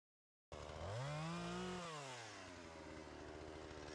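A chainsaw on a cheap imitation Alaskan-style mill starts up and revs, its engine whining up then settling into a loud, steady drone as it cuts lumber, close and alone.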